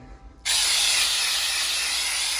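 A sudden, steady spray hiss from an aerosol can of Homax wall texture onto drywall begins half a second in and continues loudly and evenly, close up, with no talking.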